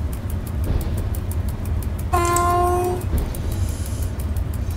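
An EP09 electric locomotive runs in the MaSzyna train simulator with a constant low rumble and rhythmic clicks, and a loud two-tone horn sounds for about a second midway.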